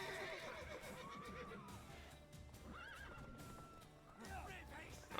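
A horse in the video game Witcher 3 gives several rising and falling whinnies over the soft clip-clop of hooves and a steady game background, all fairly close.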